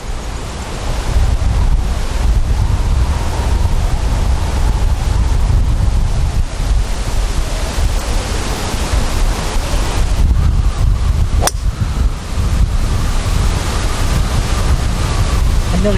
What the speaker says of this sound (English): It nearly blew me over on the backswing